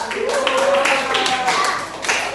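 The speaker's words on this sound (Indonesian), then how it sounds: "tepuk tangan semua dulu" A classroom of students claps together during a coding and computational-thinking lesson, a short burst of overlapping hand claps with young voices calling out over it.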